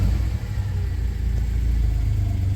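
A 1993 Dodge Caravan's Chrysler 3.0 engine with a blown head runs steadily at idle, a close, continuous low rumble with no one speaking.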